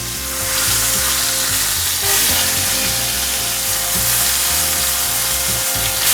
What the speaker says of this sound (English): so I'm getting that nice sear.